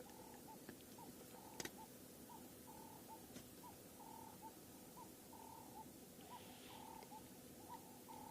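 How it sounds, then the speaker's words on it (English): Several Cape turtle doves call repeatedly at a distance on a sunrise safari in the African bush, their soft rhythmic coos faint against steady outdoor ambience and occasional clicks. "Can you hear the Cape turtle doves calling quite a lot?"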